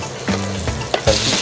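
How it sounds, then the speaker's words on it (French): Potatoes and chayotes dropped into hot oil, crackling and sizzling close-up with several bumps and splashes as the pieces go in, the hiss strengthening toward the end. "on va garder notre huile bien chaude et on va mettre nos pommes de terre et les chouchoutes"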